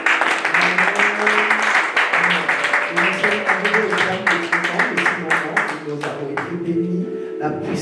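A church congregation claps and cheers in praise, dense sustained applause with voices rising through it, loud and close throughout.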